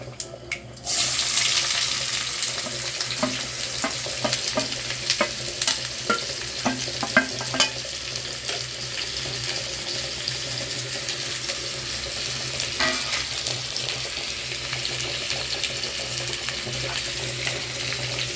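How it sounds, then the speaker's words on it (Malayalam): Mustard seeds frying in a pan for a Kerala-style tempering crackle and sizzle steadily, with scattered sharp pops and scraping stirring sounds close up, without speech. "കടുക് വറ എന്ന് പറയുന്ന കണക്ക് ശകലം ഇളക്കി ഇളക്കി കൊടുക്കണം"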